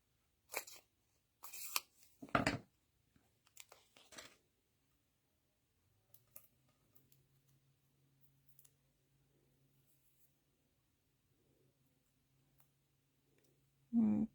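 Scissors snip a small paper pine cone cutout, a few quiet close clicks and cuts early on, then near silence with a faint hum.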